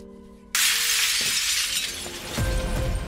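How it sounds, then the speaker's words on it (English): Window glass shatters abruptly and loudly, a bright crash followed by tinkling shards and scattered falling pieces, with a low thud near the end and no speech. "Just then, a window shatters outside the hall."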